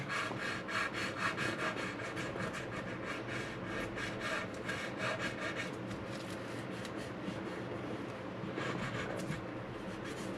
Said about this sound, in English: There's a little chip. I have to sand that out.